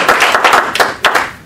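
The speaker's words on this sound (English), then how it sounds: "A big round of applause." A short burst of hand clapping at a Toastmasters keynote, a few close, distinct claps in quick succession with no voices over them.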